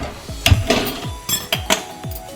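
A metal kadai is set on a stove with several sharp, close clanks and clinks spaced irregularly over a couple of seconds, with no talk.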